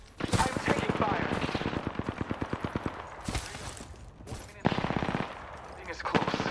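Rapid automatic gunfire in the battle royale shooter Apex Legends, long rattling bursts of evenly spaced shots broken by short pauses, loud and close, followed by further volleys.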